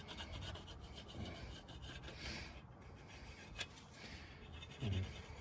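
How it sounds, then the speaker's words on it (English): A plastic scraper rubs gunk and residue off the metal of a rear differential, a steady close scraping and rasping with a sharper scrape near the end. "For this part, I'm gonna use a plastic scraper."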